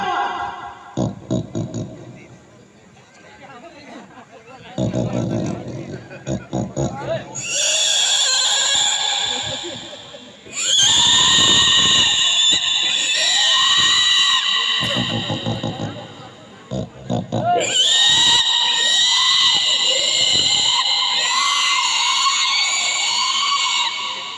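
A comedy performer at a village deity fair imitates pig squeals with loud, high, wavering shrieks held for several seconds at a time, broken by short grunting bursts, close to the listener.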